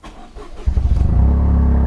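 A tuned car engine cranks and catches, then settles into a loud, deep, throbbing idle with a slight rev, close by.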